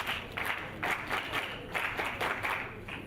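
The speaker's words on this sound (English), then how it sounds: "A round of applause for you." Faint summit audience clapping in soft, uneven bursts, distant and thin, with no voices over it.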